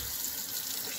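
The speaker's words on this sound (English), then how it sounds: "I'm going to go ahead and fill the water." Tap water running into a container, a steady close splashing hiss heard alone for about a second.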